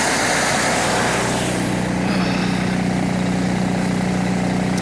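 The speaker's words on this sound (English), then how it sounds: "Trucks are running." International trucks idle after a cold winter start, a steady droning engine hum with a low sustained tone, fairly close and unbroken, the brighter hiss fading after the first couple of seconds.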